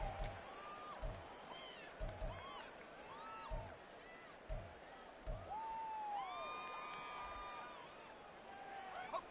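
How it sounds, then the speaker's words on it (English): Football stadium crowd making a racket late in a game near the two-minute warning, heard as a faint, distant wash of cheering and whoops, with repeated low thuds and occasional whistle-like tones rising above it. "this crowd doing their best to make a lot of racket"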